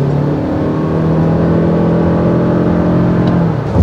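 Engine of a 2024 Toyota RAV4 PHEV plug-in hybrid SUV with CVT, running on combustion power only, drones loud and steady from inside the cabin as it pulls and revs, without talk.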